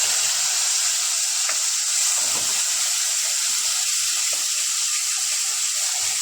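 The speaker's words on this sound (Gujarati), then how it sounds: "હવે આપણે લસણ મરચાં, હળદર અને મીઠાનું જે આપણે પાણી કરેલું હતું એ અંદર નાખીશું" Salt water mixed with garlic, chilli and turmeric hits a hot pan for methi papad shaak, giving a steady, loud broadband sizzle that holds evenly throughout with no talking.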